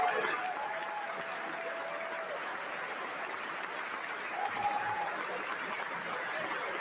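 A standing ovation in Congress at a State of the Union address: sustained, dense applause from a large crowd fills the chamber at a steady level throughout, with faint whistles or shouts briefly rising above it.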